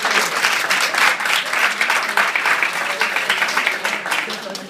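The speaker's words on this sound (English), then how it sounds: "Give yourselves a round of applause." A room full of people claps for themselves at a business event, a dense, loud and steady wash of many hands that continues throughout.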